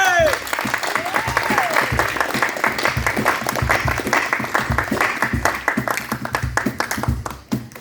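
An audience at a pageant winner's felicitation breaks into sustained applause, a dense wash of many hands clapping with voices and cheers mixed in, loud and continuous before thinning at the end.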